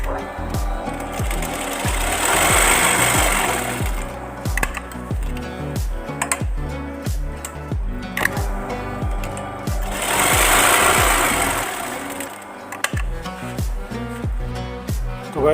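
An umbrella-type sewing machine stitching cloth, loud and close, with rapid regular needle strikes that swell into two sustained bursts of fast whirring stitching, separated by slower individual clacks, no voice over it.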